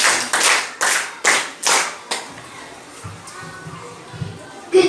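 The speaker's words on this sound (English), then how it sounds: "A round of applause, please." Audience at a school class debate claps in a few sharp, evenly spaced bursts over about two seconds, then the applause fades into a quiet room with faint low murmuring.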